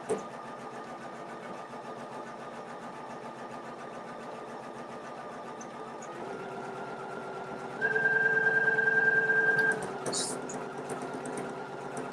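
An embroidery machine stitching a cat patch and running over thick existing stitches, a fast steady mechanical chatter that shifts pitch and grows louder partway through, with a brief sharp rattle near the end.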